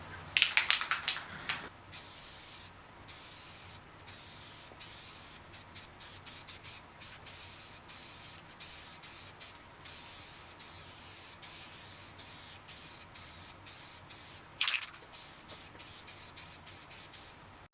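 Spray paint hisses onto a plastic door panel in a long run of short, steady bursts, with a louder blast near the start and another near the end, close and loud with no talking.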